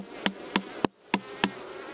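Five sharp wooden taps of a mallet on a beehive land at a steady, unhurried pace, close and distinct, with a faint bee buzz humming between the strikes.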